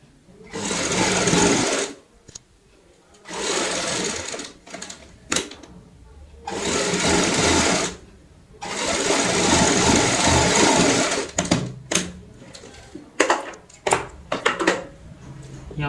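A sewing machine stitches pieces of a baby girl's cap in several loud, fast whirring bursts separated by pauses, ending in short stop-start runs, close up.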